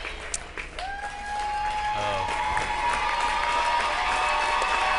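Crowd cheering and applauding at a 2014 high school volleyball match in a gym, a loud sustained roar of voices and clapping that swells and holds steady.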